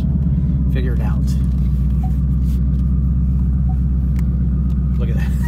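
A Hemi-engined car runs with a loud, steady, deep rumble, close by, while voices come through briefly.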